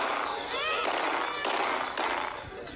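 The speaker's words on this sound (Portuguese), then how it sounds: "Um vídeo postado na internet mostra uma mulher dando tiros para o alto" Several sharp gunshot cracks from a gun fired into the air go off in quick succession, loud and echoing, with a voice talking faintly under them.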